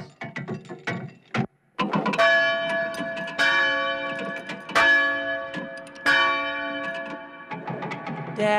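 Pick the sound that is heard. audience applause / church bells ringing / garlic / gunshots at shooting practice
church bells ringing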